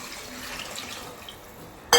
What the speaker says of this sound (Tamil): இப்போ நம்ம இதில் தண்ணி ஊற்றிக்கலாங்க